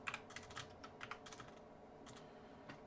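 Numbers being keyed into a computer keyboard while entering RPM values into an ECU blend table, heard as quiet, close, irregular taps and clicks in short bursts with no talking.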